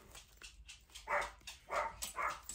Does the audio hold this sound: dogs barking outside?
yes